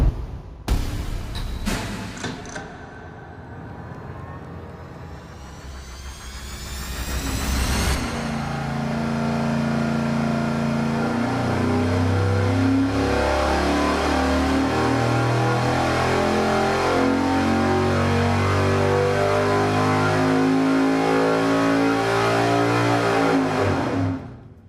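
A 13:1 compression engine revs loudly on a dyno for a baseline pull, starting with a few sharp blips, then climbing steadily through a long, rising wide-open-throttle roar that holds near full volume to the end.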